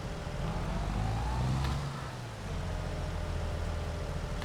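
A Deutz-Fahr tractor engine in Farming Simulator 22 runs with a steady, close mid-range drone, rising briefly near the middle and then settling into an even hum.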